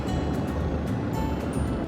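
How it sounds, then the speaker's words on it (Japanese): Strong wind gusting at a seaside campsite, a loud, steady broadband roar with surging gusts and no voices. "風強い。"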